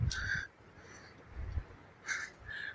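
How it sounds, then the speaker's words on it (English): Black crows in the Himalayas caw in two bursts of harsh, fairly close calls separated by a short pause, over a quiet outdoor background. "Crows out here do not have grey heads."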